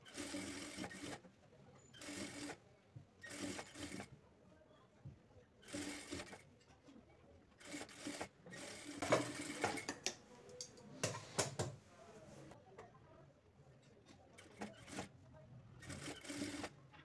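A sewing machine stitches two sleeve pieces together in short bursts of rapid ticking whir separated by pauses, close and moderately quiet.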